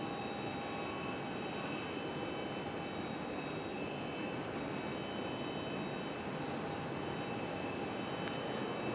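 Airliners arriving at Raleigh Durham airport, a Southwest jet and a UPS cargo plane, produce a steady, continuous distant engine drone with faint tonal whine, no speech.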